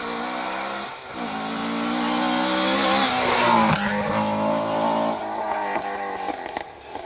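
A Chevette HSR rally car drives hard on a stage of the Down Rally in Northern Ireland, its engine a loud, continuous roar that rises and falls as it revs and shifts close by.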